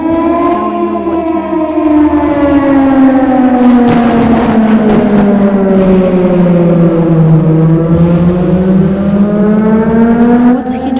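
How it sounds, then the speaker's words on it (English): A loud wailing siren from the video game Titan Chaser rises and falls in a long, slow sweep, holding steady and close throughout with engine-like noise underneath. "I heard this siren from my apartment in Bright City every once in a while"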